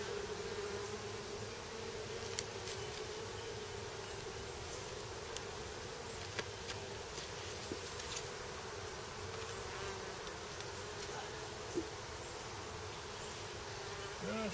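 Bees swarm where a hive used to sit, a continuous, faint, droning buzz of many insects with occasional louder passes near the microphone.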